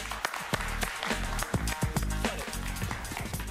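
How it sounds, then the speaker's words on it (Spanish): Studio audience applause on a Spanish-language TV talk show, steady and fairly loud for a few seconds, with a music bed running underneath and no talk over it. "Un aplauso para ella"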